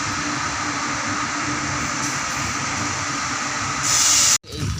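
A slow freight train rolls through a railway station with a continuous loud rumble and hiss of wheels on track, steady throughout before a brief sharp burst and a sudden cut near the end.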